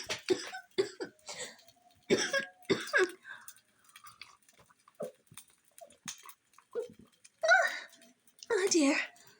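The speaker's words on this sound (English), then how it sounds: "This room is terribly dusty. Well, it made me cough." Several coughs and throat-clearing bursts from one person, some close and harsh, scattered across the clip with short pauses between them.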